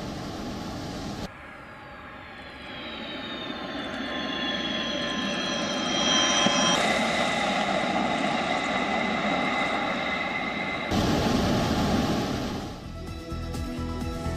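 A Russian Sukhoi Su-34 military jet flies past with a loud, sustained roar and shifting whine that swells, drops and rises again over several seconds, with no voices.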